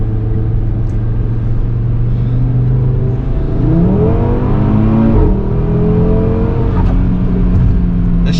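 A rebuilt, tuned 2019 Audi RS3 heard from inside the cabin in sport mode: a loud, droning engine hum climbs steadily in pitch, then drops sharply at a quick gear shift and builds again.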